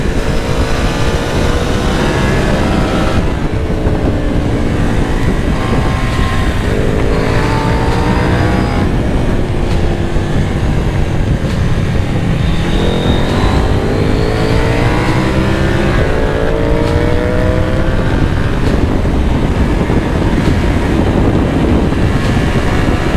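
A stock KTM 890 Duke motorcycle accelerating hard on a race circuit, loud sustained engine roar with rising pitch sweeps as it climbs through the gears, no talk over it.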